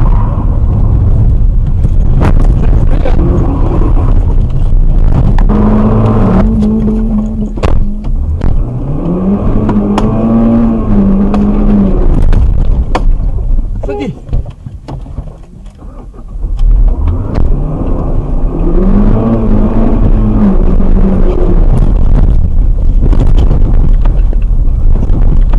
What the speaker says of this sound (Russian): от нас уходит автомобиль